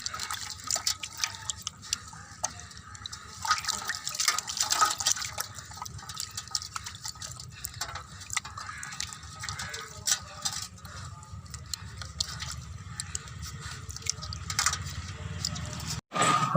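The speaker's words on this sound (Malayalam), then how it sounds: "ഇനി നമുക്കിത് 2-3 വെള്ളത്തിൽ വൃത്തിയായിട്ട് കഴുകിയെടുക്കാം." Fish pieces being rinsed in a bowl of water while preparing a bird's eye chilli fish fry: irregular splashing, sloshing and dripping, close and fairly soft, with a sharp clatter near the end.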